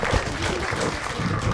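Audience clapping at a morning round of a national economics quiz competition, a steady burst of applause filling the room with no one speaking over it.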